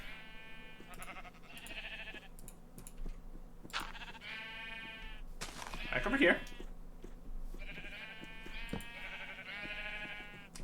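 Minecraft sheep bleat repeatedly in short wavering calls, several overlapping at moderate loudness within a game scene, with a player speaking briefly between them.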